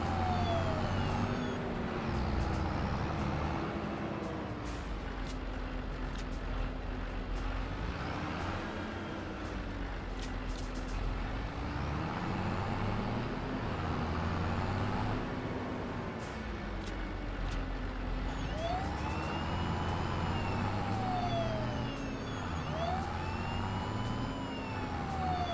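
A wailing emergency vehicle siren from the video game Farming Simulator 22, its pitch rising and falling in repeated sweeps, loud and steady throughout over a constant engine-like rumble.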